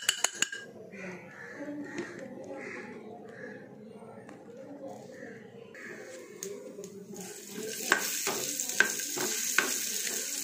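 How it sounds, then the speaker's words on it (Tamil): Cashews and almonds fried in ghee in a pan for carrot halwa, with a soft steady sizzle and occasional spoon stirring and clinking that grow louder toward the end, while a person talks over it. "நெய் போட்டு முந்திரி பாதாம்லாம் கொஞ்சம் வறுத்துக்கலாம்."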